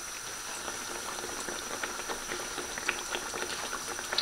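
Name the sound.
breaded chicken cutlet frying in hot oil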